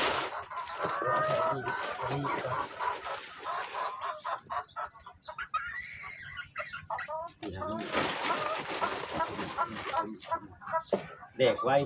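Laying hens clucking steadily close by in a farm setting, with bursts of overlapping clucks from several birds while people talk over them.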